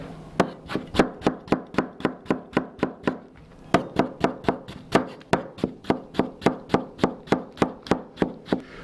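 Rapid, even hand chopping of vegetables, including tomatoes, with a knife on a cutting board, dozens of crisp close taps in a steady rhythm with a short pause partway through.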